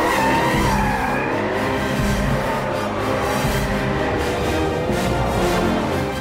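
A car drifts with its tires skidding and squealing, the engine revving loudly and steadily throughout with no pause.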